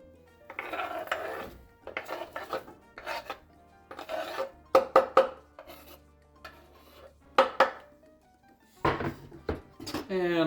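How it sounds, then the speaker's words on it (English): A knife roughly chopping an onion on a board, heard as bursts of quick rasping cuts and knocks separated by pauses, with a person talking over some of the chopping. "A rough chop for the onion is great because it gives more bite as well"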